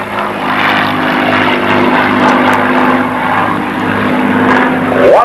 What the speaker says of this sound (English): Full power being developed all around on the Shrike.